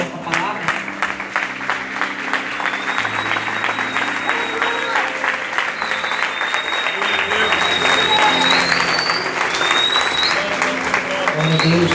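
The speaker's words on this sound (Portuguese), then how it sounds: "Você pode aplaudir ao Senhor por essa palavra?" A church congregation applauds warmly and continuously, with scattered voices and cheers rising over the steady clapping throughout.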